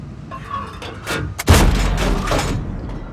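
Tank main gun firing in World of Tanks, one sharp heavy boom with a rumbling tail midway, preceded by quieter in-game engine and ambient noise.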